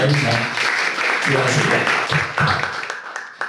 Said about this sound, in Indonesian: Tepuk tangan ya Bung